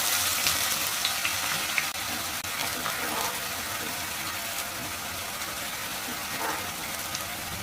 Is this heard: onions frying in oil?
yes